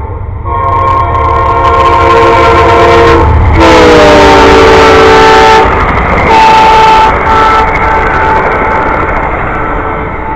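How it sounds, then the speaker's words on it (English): The Amtrak Silver Star passenger train passes nearby with a loud, heavy rumble, sounding long, sustained horn blasts that shift slightly in pitch as it goes by. "And there it goes, Amtrak train to Silver Star."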